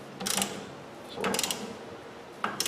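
Ratchet wrench snugging a bolt during ball joint and tie rod work on a Ford F-250, three short bursts of rapid clicking separated by pauses, close and fairly quiet.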